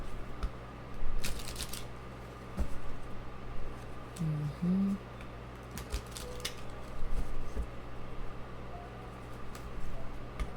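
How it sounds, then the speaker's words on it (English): A deck of tarot cards being shuffled by hand in several short bursts of riffling and patting, close and fairly quiet, separated by pauses with no talk. "Let me shuffle this deck here."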